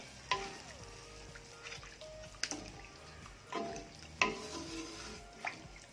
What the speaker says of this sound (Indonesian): Oke, kita aduk aja.